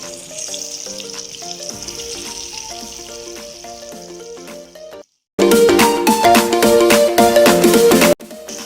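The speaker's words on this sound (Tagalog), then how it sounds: "Ngayon, prito naman natin ang ating chicken." Chicken pieces frying in a small pan at home, with continuous loud sizzling that breaks off briefly and then returns even louder and more crackly, heard close up.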